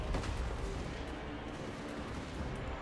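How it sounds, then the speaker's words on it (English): Cannon artillery fire in the Total War: Warhammer II battle game, a few sharp booming shots over a dense rumbling battlefield din, without speech. "Cannons."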